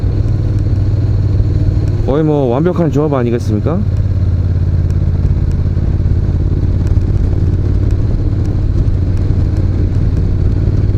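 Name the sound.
motorcycle engine while riding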